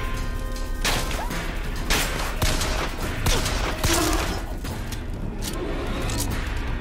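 Gunfire in the shooter game BioShock Infinite: a loud, dense run of shots and impact cracks that keeps going through the clip over a busy background of game noise.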